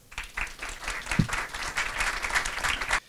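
Applause for officials of Peru's Ministry of Production and its Innóvate Perú programme at an award ceremony, steady crowd clapping filling the room with a few voices mixed in.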